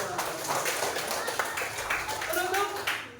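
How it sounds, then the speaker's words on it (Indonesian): A primary school science class claps together for itself, a quick burst of scattered hand claps mixed with children's voices and chatter in the classroom. "Tepuk tangan dulu untuk kita semua."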